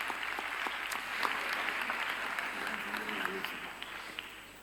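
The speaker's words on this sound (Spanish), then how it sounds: "vamos a recibir con todo el cariño y con un fortísimo aplauso a Tino Pérez" A diocesan vocations congress audience gives a warm round of applause to welcome a speaker, with sustained clapping in the middle distance, a few sharper individual claps standing out and faint crowd murmur beneath.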